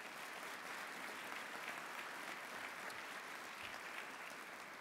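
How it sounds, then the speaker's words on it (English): Applause at an Army change of command ceremony, a faint, distant, steady wash of a crowd clapping that carries evenly for about five seconds without voices. "Please give Tracy a round of applause"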